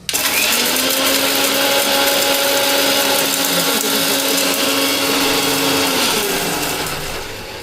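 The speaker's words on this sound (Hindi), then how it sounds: "उसको बस मिक्सी में थोड़ा सा पीसना है ताकि वो पाउडर की तरह हो जाए।" A mixer grinder grinding spices into a coarse powder whirs loudly and steadily for about six seconds, then spins down, running alone with no talking.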